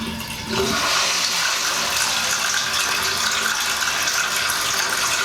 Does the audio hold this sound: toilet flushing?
yes